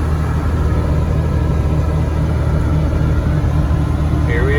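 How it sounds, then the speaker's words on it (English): A car with freshly repaired air conditioning runs down the road with its windows up, giving a steady low engine and road rumble heard from inside the cabin for the whole stretch. "Here we are running down the road."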